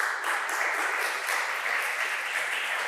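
A seated lecture audience claps steadily to welcome a speaker at an archaeology data talk, a dense even patter of many hands heard from inside the room, with no voices over it.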